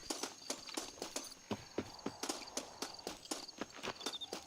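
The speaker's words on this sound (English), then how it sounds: "There's a lot of horses around here" Horse hooves clip-clop in the Red Dead Redemption game, a run of sharp, close, evenly spaced clops at a walking pace, heard alone.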